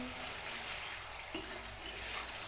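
Tomato puree being stirred into a hot pan with a low, steady sizzle, a spoon scraping now and then, close up with no talking.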